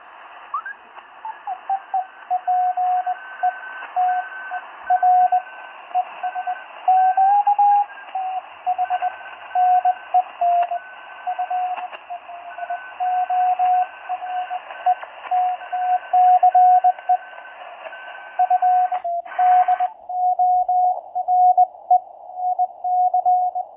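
An RGO-ONE transceiver tuned to the 20 meter amateur band receives Morse code, steady beeping tones keyed in rapid dots and dashes over faint hiss, with a second signal audible at times.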